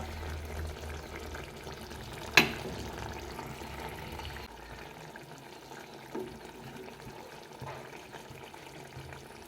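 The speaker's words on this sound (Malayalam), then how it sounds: "ആ കളകള സൗണ്ട് കേട്ടപ്പോൾ തന്നെ വായിൽ വെള്ളം വന്നിട്ടുണ്ടേനും" Fish frying and bubbling in a pan gives a faint, steady sizzle and crackle, with one sharp clatter early on and a softer knock later.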